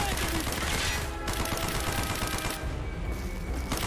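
Gunfire in the shooter game Call of Duty Black Ops, a steady crackle of rapid shots running through the whole stretch at moderate loudness, with faint talk under it.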